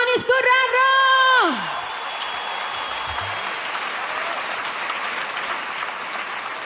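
Concert hall audience applauding a Bulgarian singer at his 25-year celebration: a loud voice ends over a sustained tone, then steady crowd clapping fills the rest.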